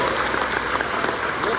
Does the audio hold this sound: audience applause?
yes